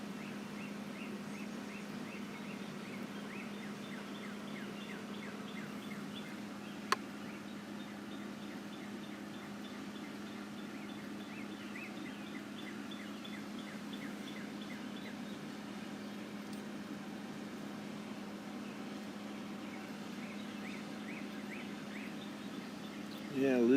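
Faint birdsong chirps and trills at sunrise scattered through a steady low hum, with a single sharp click partway through; no one speaks.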